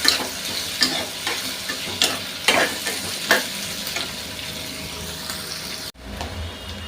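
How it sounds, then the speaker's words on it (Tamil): Onions sautéing in a pan for tomato and roasted-gram chutney, a steady sizzle with scraping stir strokes recurring every second or so, close and fairly loud, cutting off abruptly near the end. "வெங்காயம் பாருங்கள் பாதி வதங்கிருச்சு."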